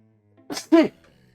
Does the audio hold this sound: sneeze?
yes